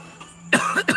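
Two sharp coughs close by from a man after vaping, a quick harsh burst followed by a second one a moment later, after a brief quiet lead-in.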